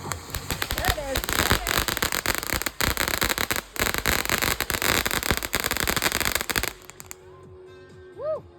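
At a fireworks festival, a dense barrage of loud crackling and popping fireworks goes on for several seconds, then cuts to quieter surroundings where rising whistling shells sound.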